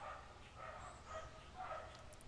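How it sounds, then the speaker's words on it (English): Dogs bark outside, faint and distant, in a few soft repeated yaps over a low background hum. "the dogs have started barking."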